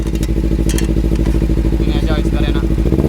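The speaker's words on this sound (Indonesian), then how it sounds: "Untuk suara mesinnya." A Kawasaki Ninja motorcycle engine idles loud and close with a fast, even thumping beat and some clatter, while someone talks over it.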